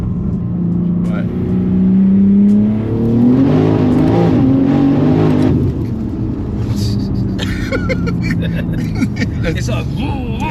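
A 1,500 bhp BMW M3 Touring engine revs hard and accelerates, a loud rising roar heard from inside the car, with voices talking over it.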